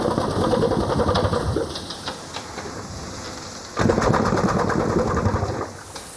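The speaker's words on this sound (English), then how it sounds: "This remarkable contraption is an old steam engine." An early working model of an old steam engine with a vertical piston runs at Quarry Bank Mill in England. It makes a rapid, rhythmic mechanical chugging in two loud bursts, with a softer ticking stretch between them.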